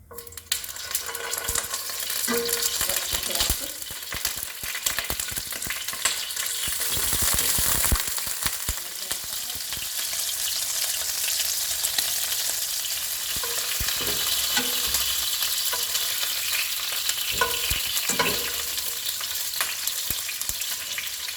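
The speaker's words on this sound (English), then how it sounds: "We're just going to quickly sear to get some caramelization on the burger patties" Burger patties sear in a hot pan over high heat, a loud, continuous frying hiss with occasional spatters and light utensil taps, no voices.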